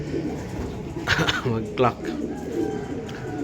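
Racing pigeons coo softly at the loft during a fun race, a couple of low throaty coos heard under someone speaking.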